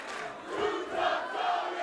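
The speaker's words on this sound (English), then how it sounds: "This crowd is absolutely on fire for Too Tough Tony." A dense crowd at an independent wrestling show roars and chants, a loud, sustained wash of voices that swells in waves.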